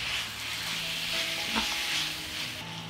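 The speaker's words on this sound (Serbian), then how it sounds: "I sve ćemo ovo pržiti još 10 minuta." Steady sizzling of meat frying in a hot pan, a continuous crackling hiss with a brief stir midway, loud and close.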